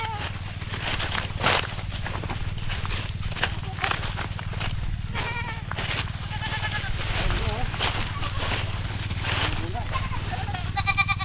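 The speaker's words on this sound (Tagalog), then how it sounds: "Anak ng kambing ni Parang Miguel." Young goat bleating repeatedly on a Philippine farm, its wavering cries rising over a steady low hum, with people talking throughout.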